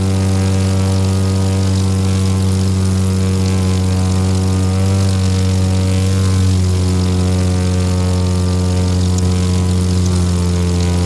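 A propeller airplane flying low over treetops in The Crew 2 drones loudly and steadily, its engine tone holding even with strong harmonic buzz throughout, no voices.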